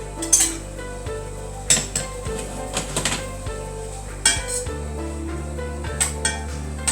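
Chopped celery stirred in a pan over medium heat, with repeated metallic clinks and scrapes of a utensil against the pan over a soft sizzle and a low steady hum, close by, with no talking.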